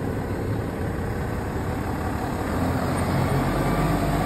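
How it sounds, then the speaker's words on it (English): A Komatsu HB365LC-3 large hybrid excavator's engine runs steadily, a loud, continuous broadband rumble and whine with a slight rise in level partway through and no talk. "So you see this engine running"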